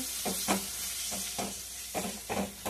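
Ground cumin, coriander, turmeric and salt frying with a little ghee in a pan, giving a steady close sizzle broken by several bursts of stirring scrapes.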